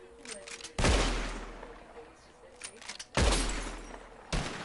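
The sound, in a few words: gunshots shooting bottles in Red Dead Redemption 2 video game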